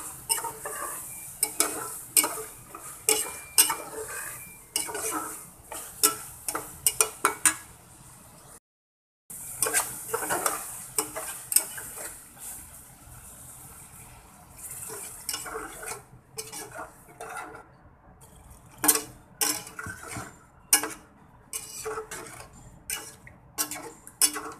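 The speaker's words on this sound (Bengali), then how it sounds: "চিংড়ি মাছ দিয়ে কষিয়ে নিচ্ছি ভালো করে" Shrimp being stirred and fried down in a pan for a bhuna, with repeated spoon scrapes and clinks against the pan over a light, steady sizzle, pausing briefly partway through.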